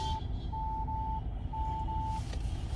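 A Kia Seltos reversing sensor gives steady, evenly spaced electronic beeps that stretch into longer tones, clear over a low engine and road hum inside the cabin.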